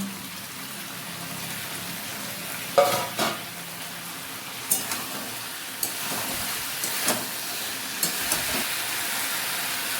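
Chopped vegetables for Bengali shukto drop into a hot pan and get stirred, a steady frying sizzle punctuated by several sharp spoon-and-pan clatters, close and unvoiced.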